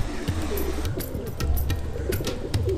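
Rampuri Kalsiray pigeons give low, soft cooing calls that repeat steadily at close range. Light chirps and scattered clicks sit over the coos, and no one speaks.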